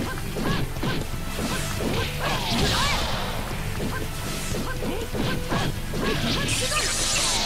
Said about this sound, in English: And Chidori sends the Toby crashing down.